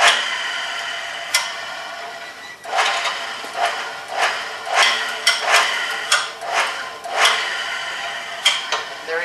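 A reamer cuts a hole on a five-speed drill press at low speed, making a series of rhythmic metallic scraping and ticking bursts roughly once a second, close and fairly loud.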